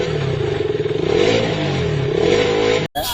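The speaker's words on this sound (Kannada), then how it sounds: "ಆ ಬೈಕ್ ಸೌಂಡ್" A motorcycle engine revs up close, its throaty note rising and pulsing before cutting off abruptly near the end.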